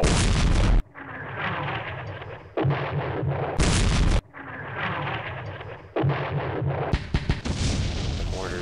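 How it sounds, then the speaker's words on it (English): Mortar fire in a World War II strategy game comes as a series of loud, close booming blasts in a repeating pattern, with sharper cracking bursts toward the end and no talk. "The mortars, those are right."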